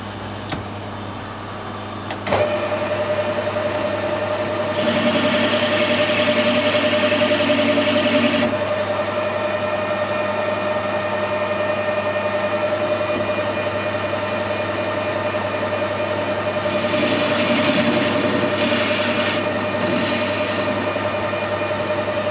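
A metal lathe steadily running with a constant motor hum and whine while cutting a 1.5 metric thread, with bursts of brighter cutting noise, loud and close.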